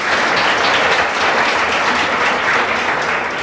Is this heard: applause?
yes